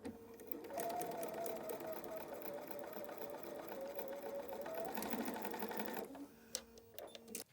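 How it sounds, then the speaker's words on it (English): A sewing machine runs steadily for several seconds with a fast mechanical whir and rattle, then stops, followed by a few clicks and handling sounds. "I'll see you at the sewing machine."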